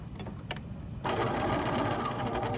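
A sewing machine starts up and runs in a fast, even mechanical whir while stitching a shirt collar seam at 5/8 inch, preceded by a few quiet clicks.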